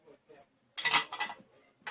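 Doughnut dough ingredients, sugar and active yeast, stirred together in a bowl: a near burst of clinking, scraping utensil-on-bowl strokes lasting about a second after faint murmured voice, with one more short scrape at the end.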